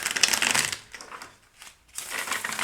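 A deck of cards is shuffled close up in two bursts of riffling and snapping with a brief quieter gap between them.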